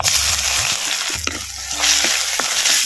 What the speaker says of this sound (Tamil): அம்மியில் கந்தலை கலக்கலமா அரைச்ச பூண்டு இஞ்சி பச்சை மிளகாய் சீரகம் மிளகை வந்து அப்படியே பச்சை வாடை போகிற அளவுக்கு நல்லா எண்ணெயில் வதக்கு வதக்குன்னு வதக்குறோம்